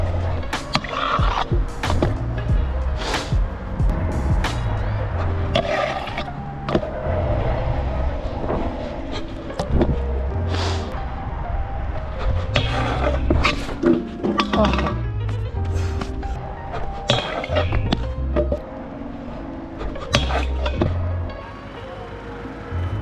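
Skateboard with wide deck grinding and sliding along a waxed rail, with repeated scraping runs, clacking pops and landings at close range while a person talks over parts of it.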